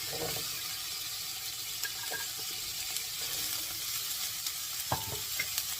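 Onions fry in hot oil in a pan with chilies and spices, a steady hiss close to the mic with a few faint clinks and stirs on top of it.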